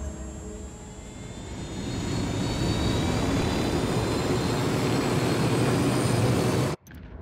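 Jet aircraft roar from called-in indirect fire support in the video game Ghost Recon Wildlands, a loud sustained rush that swells over the first seconds, holds steady, then cuts off abruptly near the end.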